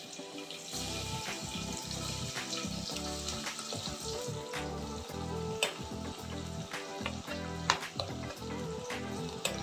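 Onions drop into hot oil with cinnamon, cardamom and cloves, sizzling steadily with crackling pops and occasional stirring clatter, close up and without speech.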